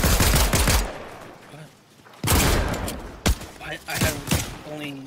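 Gunfire in the Fortnite video game, including shotgun blasts: several sharp loud bursts separated by pauses, with a voice talking between shots.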